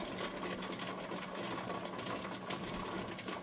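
A pressure canner's weight rocks on the vent nozzle while frozen tomatoes and pumpkin are processed, giving a fast, steady jiggling rattle over a hissing, busy background, close and continuous, with no speech.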